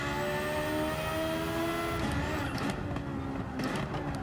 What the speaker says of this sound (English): Hear the sounds of the interior.